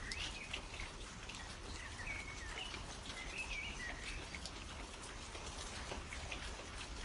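Soft, steady rain patters down on a cold, wet morning, a faint continuous hiss with scattered drips, while distant birds chirp intermittently in the background.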